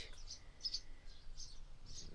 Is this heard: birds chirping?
yes